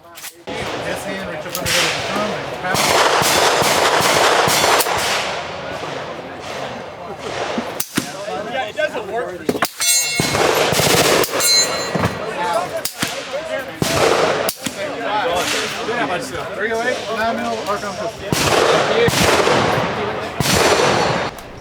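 Guns firing at a Palmetto State Armory shooting event, a crowded outdoor range with vendor booths; dense, loud shots crack one after another, sometimes in rapid strings, with people talking underneath throughout.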